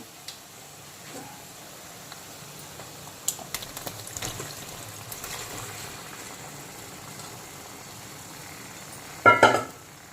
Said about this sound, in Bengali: তো এখন আমি ভেজে রাখা মাংসগুলোকে গ্রেভির মধ্যে দিয়ে দেব।